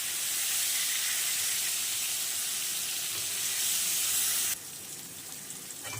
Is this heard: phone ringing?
no